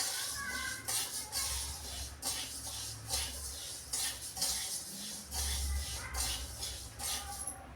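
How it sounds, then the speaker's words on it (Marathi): A spoon repeatedly scrapes and stirs a large batch of lentil and grain flour mix dry-roasting in a pan, a steady rhythmic scraping with soft hiss throughout. "सतत हलवायचं आहे आपल्याला"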